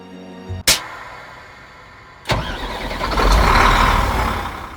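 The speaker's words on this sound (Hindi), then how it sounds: "आखिरकार ठीक 12:15 बजे हमारी बस का पहिया घूमा" An HRTC ordinary bus engine starts with a sharp burst, then revs up into a rising, close diesel rumble as the bus pulls away, loud and steady with no talking.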